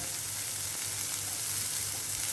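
Onion sizzles in hot oil with garlic for vegetable spring roll filling, a steady, even hiss throughout at moderate loudness with no voices.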